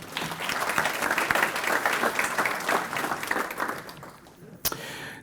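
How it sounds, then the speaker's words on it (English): Sustained applause from a breakfast event audience honoring gold sponsors at a regional chamber of commerce gathering in Mahoning County, dense and steady before tapering off, with a sharp knock near the end. "let's give a round of applause."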